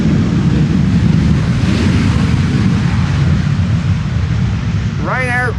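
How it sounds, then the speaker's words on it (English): A Ryanair airliner braking with thrust reversers after landing on the Polderbaan runway, a steady loud broadband roar with wind buffeting, continuous throughout, with a brief voice near the end. "Ryanair using the reversers here. So you're hearing Ryanair braking."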